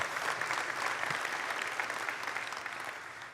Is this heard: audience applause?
yes